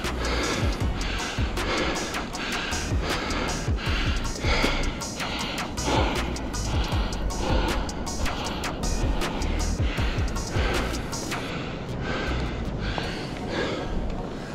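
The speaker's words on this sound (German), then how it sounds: "Ich muss mich zwingen, durch die Nase zu atmen." Heavy, rhythmic breathing through the nose while moving through a snowstorm, repeated harsh gasps and snorts layered over a loud, rough wind-like roar.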